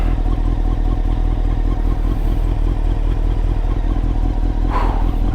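A rebuilt 2000 Honda CBR929RR sportbike engine runs steadily close up, with a constant rough, throbbing drone and some clatter and no talk over it.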